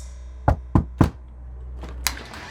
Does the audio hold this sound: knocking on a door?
yes